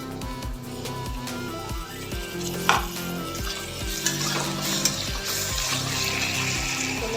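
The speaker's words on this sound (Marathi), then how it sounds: "थोडा आपण टमाटर भाजून घेऊया." Tomatoes frying with onion in a pan on the stove for egg Maggi, a steady sizzle with stirring scrapes and occasional light clinks, close and continuous, with no talking.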